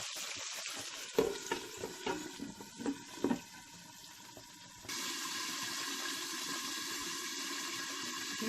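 Chicken fries in a pan for a crispy, juicy result, first with clattering stirs over a soft sizzle, then settling into a strong, even, continuous frying hiss up close.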